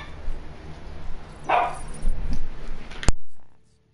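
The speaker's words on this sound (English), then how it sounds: "So they finish barking." Dogs barking at home, a few loud, sharp barks in quick succession over low background noise, then a sudden click before the sound cuts off into silence.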